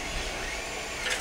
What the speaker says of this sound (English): my son has a 3D printer and it seems to be going at this time right now, so it makes a little bit of racket